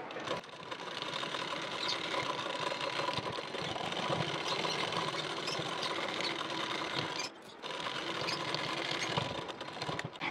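A sewing machine stitches a fitting seam at a blouse armhole, a steady fine whirring patter running continuously, briefly pausing once before resuming.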